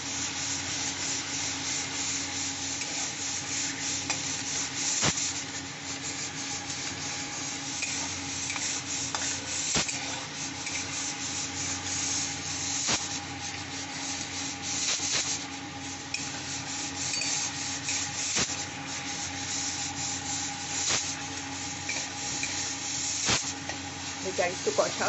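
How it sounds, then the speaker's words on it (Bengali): Boiled potatoes being stir-fried with spice paste in a pan for vegetarian aloo dum, a steady sizzle with rubbing stirring and scraping, heard close with occasional sharp scrapes, quiet speech under it. "সিদ্ধ আলুটা দিয়ে আমি এখন কষছি"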